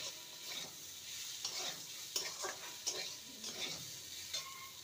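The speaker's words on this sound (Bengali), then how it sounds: "আর রসুন কুচি। ভালো করে ভেজে নেব।" Chopped garlic fries in a pan with a steady sizzle while a spoon stirs it, making repeated scraping clatters against the metal close up, with no voices.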